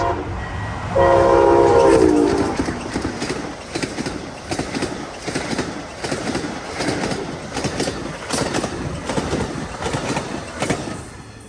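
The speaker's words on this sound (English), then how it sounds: "Really just hear the rail jump as the train goes over it there." An Amtrak Silver Meteor train rumbles past at full speed with a rhythmic clatter over the rail joints, loud and close, a brief horn-like tone sounding near the start.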